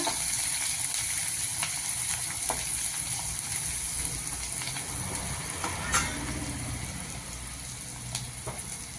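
Finely chopped onions frying in a pan, a loud, steady close sizzle throughout with occasional stirring scrapes and a few sharp clicks.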